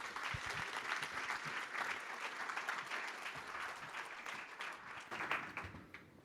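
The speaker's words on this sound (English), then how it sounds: "Can we get one more round of applause for them, please" Audience applause at an investment festival talk event, sustained dense clapping from a large crowd, steady and fairly loud throughout with a slight swell near the end.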